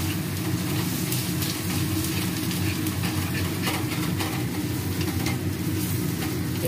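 Potatoes and onion fry in oil in a pan, giving a steady, dense sizzle with a faint clatter of stirring that runs evenly throughout.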